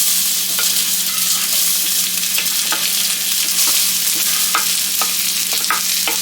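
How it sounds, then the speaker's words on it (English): Onion and garlic sizzle steadily in olive oil in a pan, a loud continuous frying hiss broken by scattered clicks of a stirring utensil, with no voices. "we're going to be adding the onion and garlic in here. So here we go, onion."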